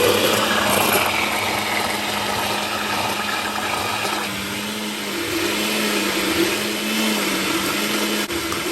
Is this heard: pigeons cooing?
no